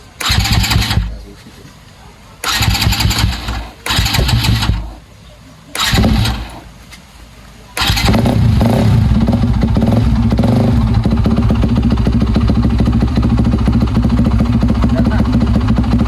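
New motorcycle engine cranked several times in short loud bursts, then catching and running continuously at a steady, loud, close idle with rough mechanical rattle.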